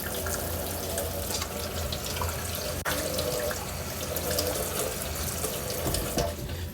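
Kitchen tap running steadily as a sausage is rinsed under it: continuous close splashing and trickling water with a few brief clatters, no talking.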